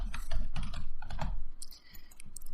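Quick, uneven keystrokes on a computer keyboard entering a password in Windows, close and fairly loud, with bursts of clicks and brief pauses and no talking.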